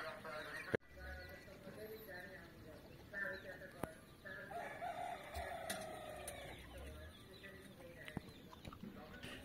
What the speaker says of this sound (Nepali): कुखुराहरू चौरमा चर्छन् चारो खान्छन् अनि रुखको शीतलोमा आराम गर्छन्